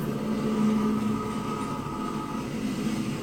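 A train car groans and rumbles in the game Uncharted 2: Among Thieves, a continuous heavy metallic rumble with drawn-out creaking squeals, steady and fairly loud with no talking.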